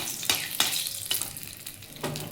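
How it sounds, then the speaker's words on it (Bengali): Dry red chilli tempering in hot oil after okra has been fried, a steady close sizzle broken by several sharp stirring scrapes, with no voices. "ওই তেলের মধ্যে একটা শুকনো লঙ্কা ফোড়ন দিলাম"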